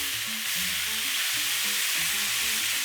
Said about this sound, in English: Once the first batch is all seared, I'll push it to one corner